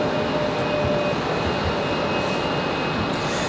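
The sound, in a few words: Icelandair airliner touching down at Raleigh-Durham airport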